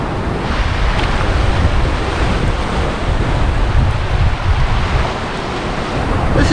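Sea waves wash against a cliff coast at Santa Pola, Spain, as a steady, loud surf roar mixed with gusty wind buffeting the microphone, with no talking.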